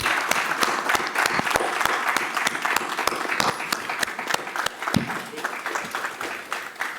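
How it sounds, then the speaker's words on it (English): Conference attendees at a medical ImmunoAllergy Conclave applaud steadily, with many individual claps cracking distinctly through a continuous wash of clapping. "he deserves one big clap from all of us"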